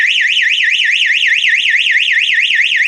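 A Sonoff alarm siren paired through eWeLink sounds continuously, a loud, rapidly warbling electronic wail rising and falling in a fast, even cycle, close and alone.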